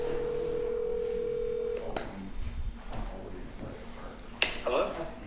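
A landline-style phone call is placed during a town selectboard meeting: a steady dial tone holds for under two seconds, then gives way to a few brief tones, clicks and faint room noise, with people murmuring in the background.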